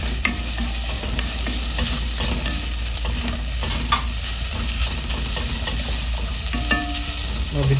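Onions fry in a hot pan for mussels, a steady close sizzle with crackling running throughout and occasional stirring scrapes, no voices.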